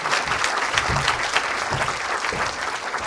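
Warm audience applause at a French round-table presentation on the RSA pathway, steady dense clapping filling the whole stretch at moderate loudness with no talk over it.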